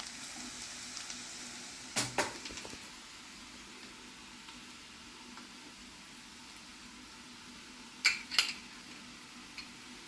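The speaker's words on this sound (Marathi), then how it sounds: "प्रॉन्स टाकते मी." Prawns added to onions frying in a pan for Goan Saraswat prawn rice: a quiet, constant sizzle with a few sharp clinks of a utensil against the pan.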